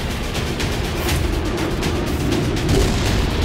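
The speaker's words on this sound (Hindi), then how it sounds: "फिलिस्तीनी मीडिया ने हमास के दावे को लेकर फास्फोरस बम से हमले के कई वीडियो जारी किए हैं।" Rumbling booms and explosive blasts from phosphorus bomb attacks in Gaza, a dense continuous roar of distant detonations with no clear individual hits, loud throughout.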